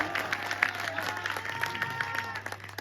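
An audience at a Hindi comic poetry gathering in Barabanki claps steadily, a moderate patter of many hands heard at some distance with a low hum beneath, fairly even throughout.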